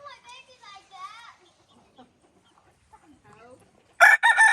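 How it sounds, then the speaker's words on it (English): A rooster crows in a backyard flock, one loud crow bursting in near the end after quieter stretches of a child's and an adult's voices talking. "My chicken will kick you."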